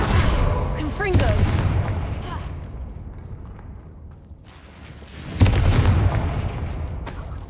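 Confringo blasting spells in Hogwarts Legacy, with two heavy booming explosions, one at the start and another later, each trailing off into rumbling debris, loud and close.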